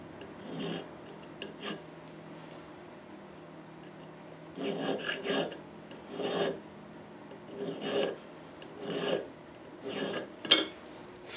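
File rasping the underside of a fret crown during a 1929 Gibson L5 guitar restoration: short, close scraping strokes in small bursts with pauses between them, quiet and alone.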